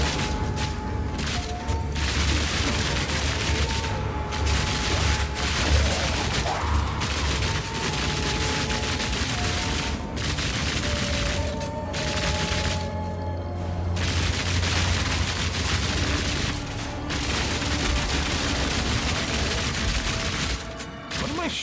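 An automatic crossbow in Path of Exile 2 keeps shooting, with rapid mechanical clacking and volleys of impacts mixed with booms. It is loud and sustained, with short gaps between bursts.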